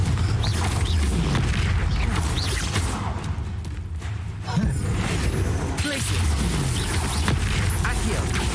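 An explosive spell blasting in Hogwarts Legacy during a fight with a troll, a heavy booming impact rumbling low and loud, followed by further thuds and whooshing under a spoken voice.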